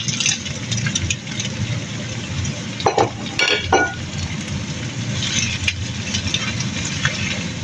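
Rice noodles and vegetables stir-fried in a pan make a continuous loud sizzle with clattering scrapes and tosses, the busiest scraping coming in a couple of sharp bursts midway.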